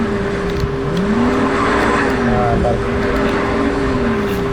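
In NFS Most Wanted 2005, a BMW M3 GTR race car's engine drones continuously with wavering pitch as tires squeal, while someone talks over the game sound throughout.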